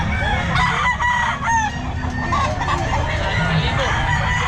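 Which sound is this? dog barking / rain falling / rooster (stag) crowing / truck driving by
rooster (stag) crowing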